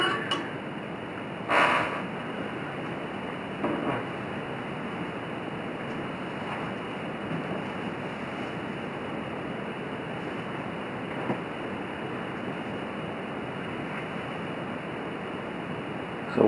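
A BS 1.0 camping stove burns under an Imusa mug pot, giving a steady, even rushing hiss throughout with a few faint clinks on top.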